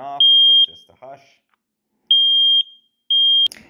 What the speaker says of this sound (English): We got that beep, it's going off.